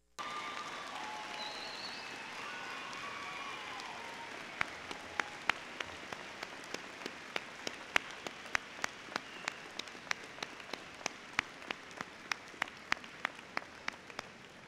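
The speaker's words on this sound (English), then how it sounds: "I want you to applaud them" Graduation audience at a high school ceremony applauding parents, a broad wash of distant crowd clapping with sharper nearby claps standing out later.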